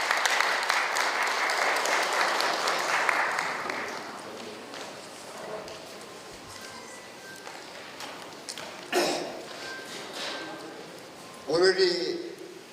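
Audience applause at a Korean NGO TV broadcasting launch ceremony, a dense burst of clapping that fades over several seconds, followed by scattered shuffling and faint voices in the room.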